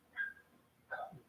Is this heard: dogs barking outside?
yes